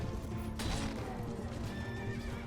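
A horse neighs loudly with a long whinny over clip-clopping hooves amid medieval battle noise in the video game Return to Pendor.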